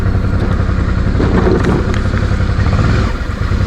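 A motorcycle loaded with luggage labors up a very steep, rocky track strewn with big stones, its engine droning loud and close with rough revving surges and clattering of rocks under slipping wheels.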